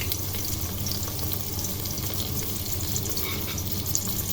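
Garlic and onion frying in a pan of oil, a steady, even crackling hiss that carries on without a break, fairly quiet and close, with no voices.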